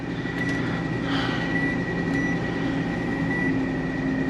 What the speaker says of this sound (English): Microwave works.